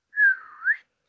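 A person whistles one rising and falling tone lasting under a second, close and clear, imitating a whistle with no other sound around it.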